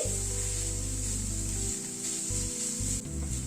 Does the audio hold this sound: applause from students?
no